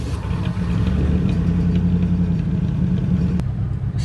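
A Ford LTD engine with a freshly rebuilt, troubled carburetor runs roughly, giving a steady, close, loud low rumble for several seconds with no talk, broken by a single sharp click near the end.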